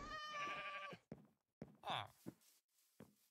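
A nasal, wavering sheep bleat in Minecraft sounds at the start, followed by short bursts of speech and a few soft thumps.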